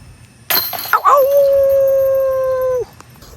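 After a disc golf shot, a loud metallic clatter is followed by a person imitating a wolf, who lets out one long, sustained howl at close range that holds steady before breaking off.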